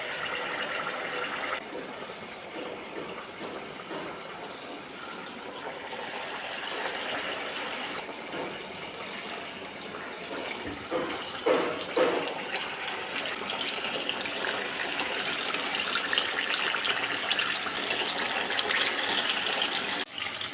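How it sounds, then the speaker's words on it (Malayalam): Batter-dipped banana fritters (pazhampori) fry in hot oil, giving a steady hiss and bubbling crackle that stays close and continuous, with some clicking and handling noises partway through. "മാവിൽ മുക്കിയതിന് ശേഷം ഈ പഴം എടുത്ത് ഈ എണ്ണയിലേക്ക് ഇട്ട് കൊടുക്കാം"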